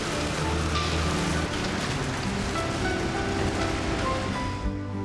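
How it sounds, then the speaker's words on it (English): Light rain falling at dawn on a street, a steady, even hiss of drops spread across the whole scene with no pauses, moderately loud and with no voices. "Amidst a light rain at dawn,"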